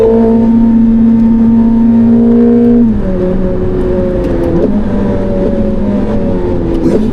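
A loud, close Ferrari 849 Testarossa engine roars steadily on a wet track, then its pitch drops suddenly as it shifts gear and keeps accelerating.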